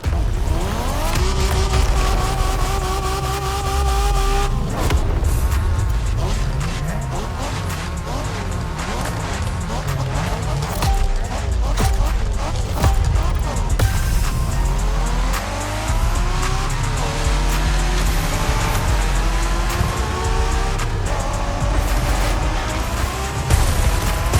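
A race car in The Crew Motorfest driving hard, engine revving through gear changes with rising and falling pitch, tires squealing and skidding in bursts, loud and close throughout, along with game music.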